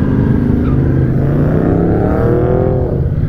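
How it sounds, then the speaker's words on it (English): A car passes nearby, its engine drone rising and shifting in pitch as it goes by, loud and continuous with no talking. "Sorry, distracted by nice car."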